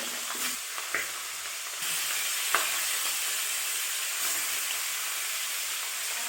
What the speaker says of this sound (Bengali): যে বাকি অংশটা মাছের মাথা ছিল সেটাকে আমি এবার ছেড়ে দিই। একইভাবে ভালো করে ভেজে নেব।